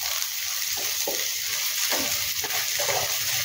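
Green chillies dropped into hot oil for a vegetable stir-fry, giving a loud, continuous close sizzle with soft irregular crackles and stirring scrapes, no voices.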